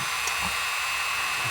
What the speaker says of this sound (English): I have the Dremel here set on number 4.